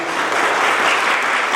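Dense, steady applause from a wedding crowd, loud and continuous throughout with no pause, following a Hindi-language vow ceremony between bride and groom.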